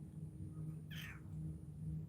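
A single short cat meow rises clearly above a low steady indoor hum, a brief close call in the middle of the clip.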